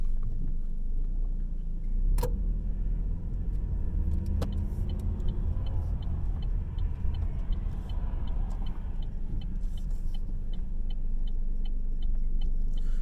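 Chevy Cruze cruising on the road, a steady low engine and road rumble that holds throughout, with a faint regular ticking on top and no talking.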